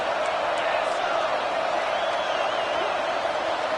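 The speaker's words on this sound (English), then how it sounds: "the crowd really getting into it" Stadium crowd in EA Sports College Football 26 roaring through a third-down play in a college playoff semifinal, a steady, dense wall of cheering that holds at an even level for the whole stretch.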